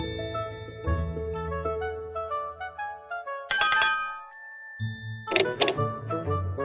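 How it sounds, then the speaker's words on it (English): A two-note doorbell chime in the PC game Disney Piglet's Big Game rings out over bright tinkling game music, the tones hanging briefly before the melody resumes. "Perhaps if I ring the doorbell."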